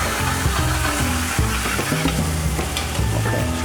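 Onions hit browning butter in a pan and fry with a loud, steady, close sizzle, while spatula stirring adds repeated scraping pulses throughout.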